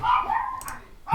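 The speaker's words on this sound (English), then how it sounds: "Sorry if you can hear the dogs barking." Dogs bark briefly in the background of an indoor room, a short sharp bark followed by a fainter yip, fairly quiet and distant.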